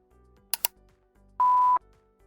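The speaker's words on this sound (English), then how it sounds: "you can choose to hear a beep or not when the timer of the button action is expired" A single short electronic beep, clean and steady, sounding once after a couple of faint clicks in an otherwise quiet room.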